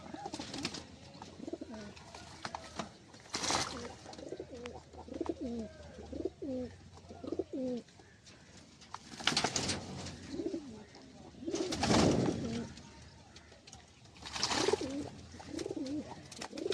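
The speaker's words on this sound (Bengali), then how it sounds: "এখানে সব মাদি আছে, মাদি পায়রা।" Female pigeons cooing in soft, repeated throaty rolls close by, with brief noisy bursts of rustling or flapping breaking in now and then.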